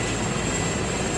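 Steady rotor-and-engine drone of a helicopter in flight in the military video game Arma 3, a dense, continuous roar held at even loudness throughout, with no talk over it.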